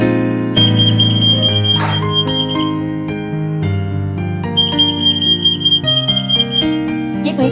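A 58 kHz EAS anti-theft shop security system with people counting sounds its alarm, loud shifting electronic tones stepping between pitches in a continuous sequence, with a brief sharp click partway through.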